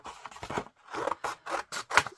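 Scissors cutting card for a watercolour greeting card, a quick series of about seven crisp snips close to the microphone in a quiet craft room, with no talking.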